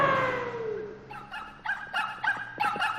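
Several short, sharp barks from a few dogs in the video game Super Mario Maker, at a middle distance, following a fading whine at the start.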